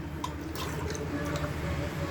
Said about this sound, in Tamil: இது குக்கரில் போட்டுட்டு 2 டம்ளர் அளவு தண்ணி ஊற்றிக்கிறோம்